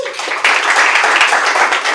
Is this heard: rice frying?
no